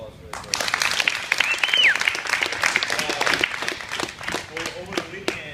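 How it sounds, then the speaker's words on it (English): A room of people at a Brazilian jiu-jitsu gym applauds competitors during a purple belt celebration, with steady clapping, a sharp whistle and voices mixed in. "So big round of applause for everybody."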